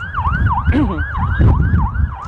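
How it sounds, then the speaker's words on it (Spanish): Emergency sirens in Jerusalem wail loudly and close by in a fast, repeating up-and-down sweep over rumbling traffic, with a brief vocal sound partway through. "En este momento hay unas sirenas que suenan aquí en Jerusalén."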